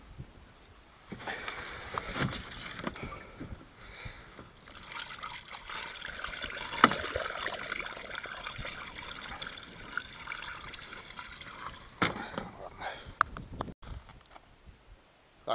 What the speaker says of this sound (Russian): Так, вода залита.